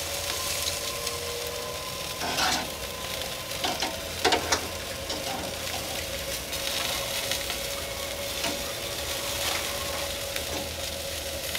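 BBQ chicken sizzles on a Masterbuilt Gravity Series 560 grill as pieces are flipped, a steady close crackle with scattered scraping and tong clicks over a faint hum, no voices.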